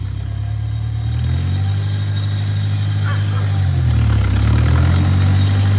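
A tractor engine runs in low gear, a loud, steady, low-pitched drone that climbs slightly in pitch partway through and then settles, with no talking.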